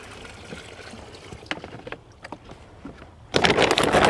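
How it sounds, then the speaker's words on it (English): Water poured into a bag of cement, with soft handling rustles and small knocks at first, then a sudden loud rushing gush near the end. "Add our water right to the cement."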